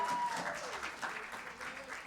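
A church congregation applauds Audrey, a short burst of clapping with some voices mixed in.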